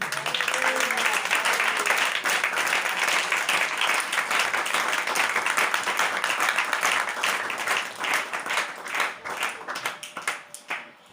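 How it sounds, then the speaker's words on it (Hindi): Sustained loud clapping and applause from a church gathering audience, a dense crowd cheer that thins into scattered claps toward the end. "खुदावंद के जलाल के लिए जोरदार तालीम।"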